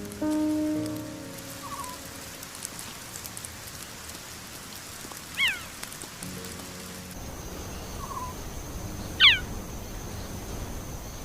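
Steady rain patters through an acacia forest, a soft continuous hiss with a couple of brief, distant bird calls rising over it.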